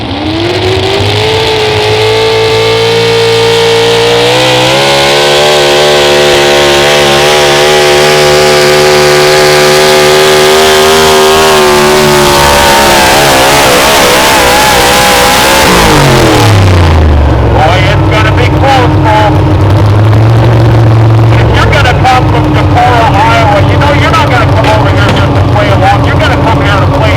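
A truck roars at full throttle during a truck and tractor pull, its loud engine climbing in pitch over several seconds, then cutting off sharply into crowd noise and a lingering idle rumble.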